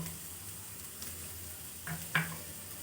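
Onion and garlic frying in hot oil for a spinach rice dish, giving a faint, steady sizzle with a brief louder crackle burst near the end.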